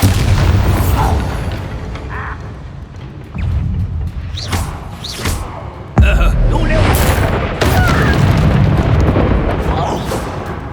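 A Bombarda spell goes off as a deep booming explosion in Hogwarts Legacy, loud and close, with several heavy blasts and rumbling thuds spread across the stretch, along with game voices.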